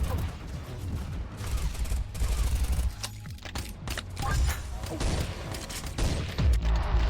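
Rapid pistol gunshots from a hand-cannon style sidearm in the mobile shooter Pixel Gun, a quick string of sharp booming reports with short pauses between bursts, loud and up close against game background noise.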